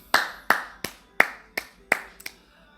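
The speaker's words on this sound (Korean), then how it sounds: "박수." Seven sharp hand claps ring out alone at an uneven pace, close and crisp, with the last two landing in quick succession before fading into quiet.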